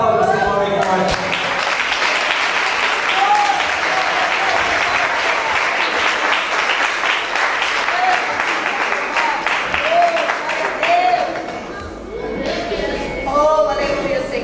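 A church congregation claps loudly and continuously in a sustained, dense round of applause, with voices calling out and a singing or speaking voice rising over the clapping near the end.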